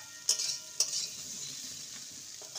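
A spatula stirs fried bitter gourd and potatoes together in a pan over a soft, faint sizzle, with a few sharp scrape-and-clink accents near the start.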